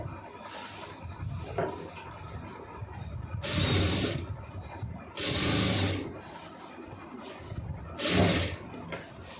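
A sewing machine stitching a boat neckline runs in three loud, sustained bursts of rapid whirring, separated by quieter pauses with light handling sounds.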